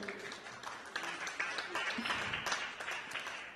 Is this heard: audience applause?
yes